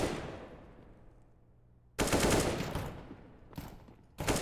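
Counter-Strike duel on the Mirage map pitting a Five-seven pistol against an AK rifle: three sharp bursts of gunfire break a faint lull, each loud and clipped, with a fading echo after the first.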